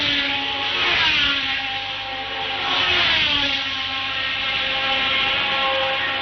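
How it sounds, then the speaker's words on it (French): A 1971 Spanish Grand Prix Formula 1 car engine, making an odd noise, drones and whines nearby, its pitch rising and falling in sweeps with a slightly rough, uneven tone. "Le moteur de Regazzoni fait un drôle de bruit."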